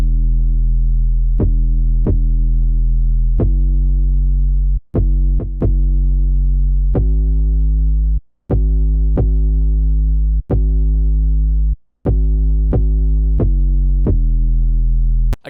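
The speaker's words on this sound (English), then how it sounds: "lastly for drums is the 808, which is going to sound like this" FL Studio 808 bass drum playing alone: long, loud, booming sub-bass notes with sharp clicky attacks, sustaining and stepping between pitches in a steady beat pattern, occasional short gaps between hits.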